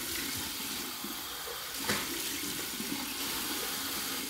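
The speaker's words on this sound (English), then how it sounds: "Here's my warm water rinse." Warm water runs steadily from a tap for rinsing, a close, continuous hiss and splash with a brief louder gush partway through.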